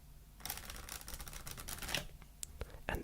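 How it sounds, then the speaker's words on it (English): A deck of playing cards given a single riffle shuffle, a dense crackle of flicking cards running about a second and a half, followed by a few sharper taps and a final burst, quiet and close. "you can give the deck one and only one riffle shuffle"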